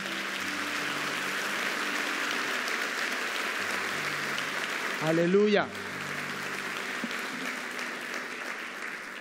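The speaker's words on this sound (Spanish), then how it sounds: "Dale un aplauso al Señor." Applause from a church congregation fills the whole stretch as steady broadband clapping, with a man calling out briefly in the middle over it.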